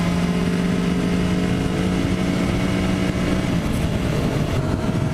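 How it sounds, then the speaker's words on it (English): A Kawasaki Ninja 400 motorcycle with a new exhaust is revved hard on the throttle, giving a loud, continuous engine roar that holds steady, then drops in pitch near the end. "Give it a big handful of throttle there."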